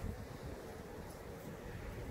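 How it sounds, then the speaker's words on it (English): Wind blows outdoors on a winter day, a steady low rushing buffet against the microphone with no other clear sounds. "But it's still going to be windy all day"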